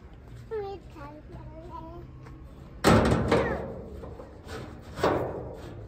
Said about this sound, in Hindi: दरवाजा बंद करो फिर चलते हैं।